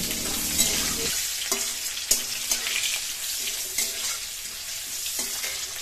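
Chopped onion fries in refined white oil, a bright crackling sizzle broken by several sharp spatula scrapes and taps, close and fairly loud, with no voices.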